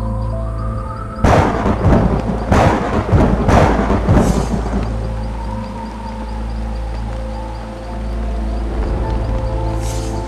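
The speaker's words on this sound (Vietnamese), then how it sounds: "bão đáng sợ quá, con sợ quá à" Animated cartoon storm: several loud thunder cracks and rumbles in quick succession over a constant wind-and-rain bed, then a quieter stretch with lingering storm noise and a final sharp burst near the end.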